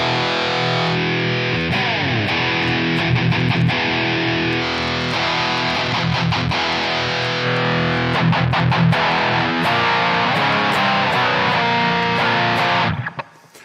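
Heavily distorted metal electric guitar played through the AnyAmpIR IR loader app on iOS, a loud, continuous rhythm of palm-muted chugs and chords that runs alone without voices and cuts off sharply at the end.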